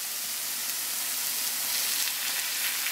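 Peppers and carrots in olive oil with a splash of water sizzle steadily in a pan, a dense, even hiss close up with no talking.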